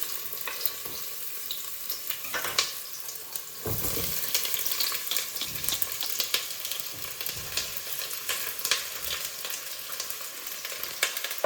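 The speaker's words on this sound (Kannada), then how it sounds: "ಇವಾಗ ನಾನು ಈರುಳ್ಳಿ, ಬೆಳ್ಳುಳ್ಳಿ, ಚಿಲ್ಲಿ ಹಾಕೋತಾ ಇದ್ದೀನಿ." Onion, garlic and chili sizzling and frying in a pan, a steady crackling hiss with intermittent stirring scrapes throughout, close and continuous.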